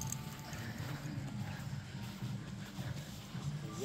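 A horse canters around a jumping course at a club-level eventing competition in Wallers, its steady, rhythmic hoofbeats faint and somewhat distant under a constant low rumble.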